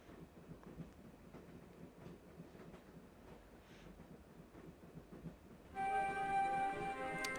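A train carriage rolls steadily in the Broken Sword video game, with a soft continuous rumble and rhythmic clatter, joined near the end by a louder tonal, musical swell.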